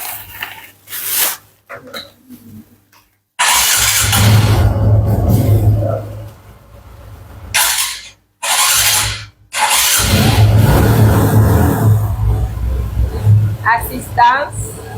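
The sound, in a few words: motorcycle engine starting and revving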